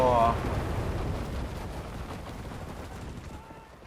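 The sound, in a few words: explosion in the video game Enlisted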